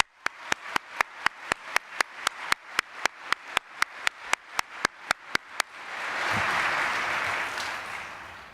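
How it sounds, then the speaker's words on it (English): At a CPCU conferment ceremony honoring new designees, crisp, evenly spaced claps ring out at a quick steady pace, then give way to a short swell of fuller crowd applause. "Congratulations, all new designees. Let's give ourselves another round of applause."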